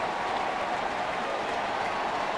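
Baseball crowd at a ballpark cheering and applauding, a dense, steady wash of noise from a large stadium audience with no single voice standing out.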